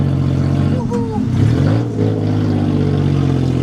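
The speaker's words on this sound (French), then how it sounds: "Vous entendez ce moteur, les gars?" A tuk-tuk engine in Bangkok idles with a low, steady drone and rises briefly in a short rev, heard up close and loud.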